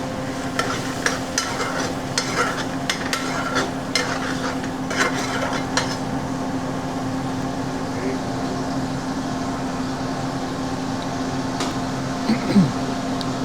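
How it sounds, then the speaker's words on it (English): Fish deep frying in a busy restaurant kitchen hisses with a steady sizzle, with clatter and scraping over a constant mechanical hum; occasional voices murmur in the background. "he's deep frying some fish"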